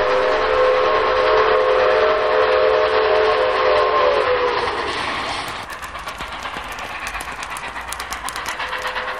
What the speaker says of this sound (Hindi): जोर से सीटी बजाते हुए ट्रेन स्टेशन पर आकर रुक गई।